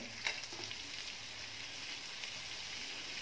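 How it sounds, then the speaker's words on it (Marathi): Cuttlefish frying in a pan give a faint, steady hiss, with a soft clack near the start as the pieces are turned, and nobody speaks. "आता फ्राय आहे ती उलट करून घेणार आहे."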